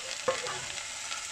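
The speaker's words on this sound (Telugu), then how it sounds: "బాగా కలుపుకొని మూత పెట్టాలి." Vegetables with salt, chili and turmeric are stirred in a hot pan while making a clear mixed vegetable soup, giving a soft steady sizzle with a brief scrape of the spoon near the start, close and quiet.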